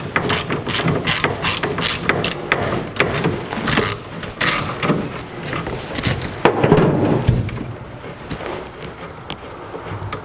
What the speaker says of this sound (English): Now I'm going to take the 4 bolts out that hold the steering column to the bracket.